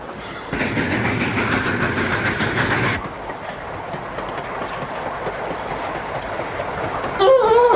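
Steady rumble and rhythmic clatter of a 1934 private rail car rolling along the track in a radio drama, loud and continuous, easing slightly midway, with a brief whistle-like tone near the end.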